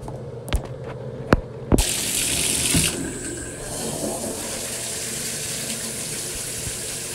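Running shower water starts after a few sharp knocks and clicks, then rushes in a steady, close hiss that eases slightly and continues evenly to the end.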